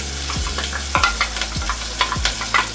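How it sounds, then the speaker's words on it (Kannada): Ground masala frying in oil in a pan for rasam, a steady loud sizzle broken by repeated sharp scraping strokes of a spoon stirring, with no voices. "ಮಸಾಲೆ ಸ್ವಲ್ಪ ಎಣ್ಣೆಯಲ್ಲಿ ಫ್ರೈ ಮಾಡ್ಕೊಳ್ಳೋಣ."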